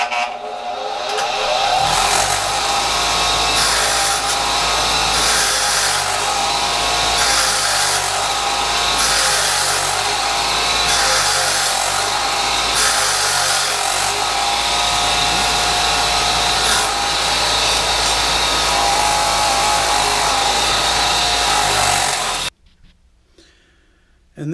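A customized, repainted bench grinder fitted with extra-large Lexan shields runs steadily with a loud, continuous whir and a grinding hiss for about twenty-two seconds, then cuts off abruptly into near silence.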